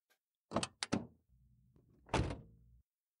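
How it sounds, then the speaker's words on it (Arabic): A few sharp thuds and a heavy slam close by, with a low rumbling hum between them, like a car door being shut firmly. "أسمع صوت باب سيارة بابا يغلق بشدة"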